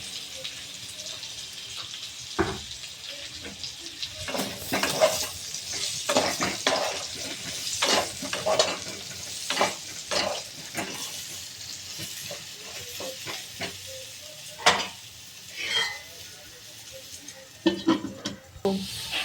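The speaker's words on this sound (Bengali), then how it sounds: "ফুলকপিটাও আমি অল্প একটুখানি নুন আর হলুদ দিয়ে ভেজে নেব" Cauliflower frying in a pan with a little salt and turmeric for a katla fish curry: a soft background sizzle broken by repeated scrapes and clanks of a spatula stirring against the pan, irregular and close.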